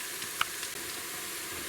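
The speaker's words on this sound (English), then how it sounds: "Okay, the onion is almost fried." Onions frying in a pan for chicken masala, cooked down to light brown, giving a soft, continuous hiss with a faint tap of stirring near the start, with no one speaking.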